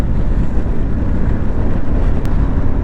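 Loud, steady wind rushes and buffets throughout while riding a Harley-Davidson Pan America, a broad roaring blast that nearly drowns out the engine underneath.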